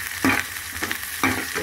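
Curry leaves, coriander and green chillies fry in a pan with a soft, steady sizzle. Two sharp stirring scrapes cut through it, close and fairly quiet.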